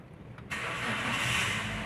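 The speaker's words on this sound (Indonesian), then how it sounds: "Dan ketika mesin ini kita nyalakan" Car engine cranked and fired, a short starter whir quickly catching into a steady, close mid-pitched idle, with a faint click just before.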